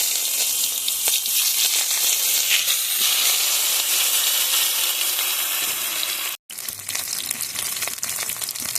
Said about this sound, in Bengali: তেল গরম হয়ে গেছে এখন আমি একে একে টমেটোগুলো দিয়ে দেবো